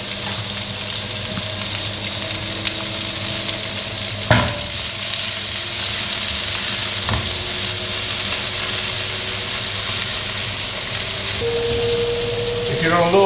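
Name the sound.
fat rendering and frying in a pan for chili con carne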